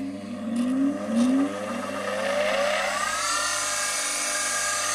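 An Elitech bench grinder fitted with a diamond cup wheel spins up close by, its whine climbing in pitch over a few seconds and then settling into a steady, even whir with no talking.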